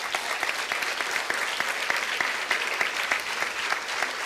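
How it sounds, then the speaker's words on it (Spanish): A church congregation applauds during a Sunday sermon, many hands clapping steadily and densely at close range, a sustained, even wash of claps that holds for several seconds without speech. "dele un aplauso al Señor con todo su corazón"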